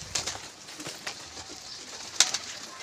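Pigeons in a loft, a few faint low coos and soft bird sounds at a distance over quiet background noise, with a brief sharp click near the end.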